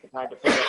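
Brief speech at a city council meeting gives way to a single sharp, close sneeze.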